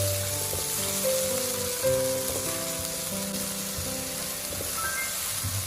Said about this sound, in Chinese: 先简单的翻炒几下，然后再加入一勺食盐，这样能使西红柿更加容易出汁。